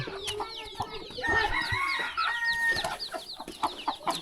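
Chickens cluck and chatter in a rural Thai village yard, a busy flock of close and distant hens with brief crowing mixed in, continuous and moderately loud.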